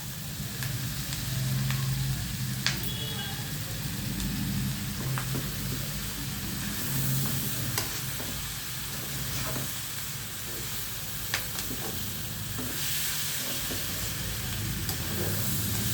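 Mutton frying in oil, a steady close sizzle and hiss with light stirring clinks and scrapes over a low background hum, no voices.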